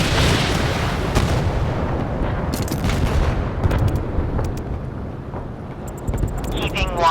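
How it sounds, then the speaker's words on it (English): Naval guns fire in the video game Force of Warships, with heavy booming blasts and rumbling in close succession, later giving way to sharper cracks and crackling effects. "Ready to open fire on the enemy."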